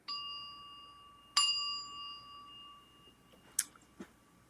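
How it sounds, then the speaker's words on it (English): A small bell is struck twice, each ring a clear bright ding with a long sustained decaying tone, followed by a couple of faint metallic taps in a quiet room. "Little bell, right?"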